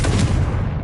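Confringo explosive spell cast in Hogwarts Legacy, a short loud booming blast with a deep low-end thump, heard alone.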